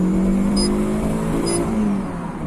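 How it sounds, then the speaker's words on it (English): A Honda K-series car engine pulled to full throttle while being tuned, a loud steady engine drone that holds, then eases slightly toward the end. "I will go into full throttle"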